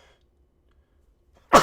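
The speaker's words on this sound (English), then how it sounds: "I might sneeze." One short, sharp sneeze bursts out suddenly at the very end after near silence, loud and close.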